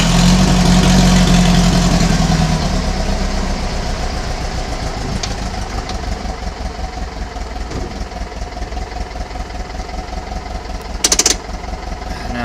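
Cold engine of an 1800 idling at low RPM, a loud steady low rumble with a rhythmic chug, louder at first and then settling, with a brief metallic clank near the end.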